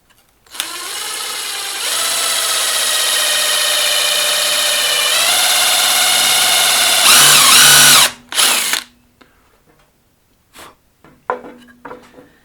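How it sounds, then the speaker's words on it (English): A power drill with a countersink bit whines steadily for several seconds, its pitch rising as it bores into material, then stops, followed by light handling clicks. "now I'm going to drill some holes down in there"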